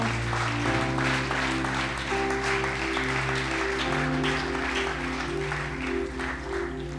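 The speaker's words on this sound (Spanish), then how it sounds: "¿Pueden aplaudir a Jesús?" A congregation clapping during a Spanish-language Bible study at church, steady massed applause blended with sustained keyboard chords underneath, fairly even in loudness throughout.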